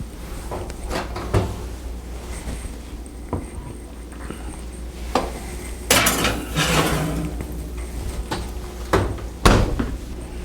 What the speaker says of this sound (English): let's go ahead and get this thing put in the oven